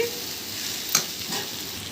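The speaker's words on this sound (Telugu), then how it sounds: "అడుగంటకుండా మధ్య మధ్యలో గరిటితో తిప్పుకుంటుండండి" Green banana pieces fry in a pan for pittu while a ladle stirs them, giving a steady close sizzle with one sharp scrape of the ladle midway and no voices.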